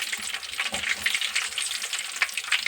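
Brinjal bajji, battered eggplant fritters, frying in hot oil in a roadside style, giving a steady close crackling sizzle with bubbling pops throughout and no voices.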